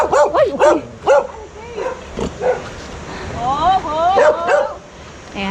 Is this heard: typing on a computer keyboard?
no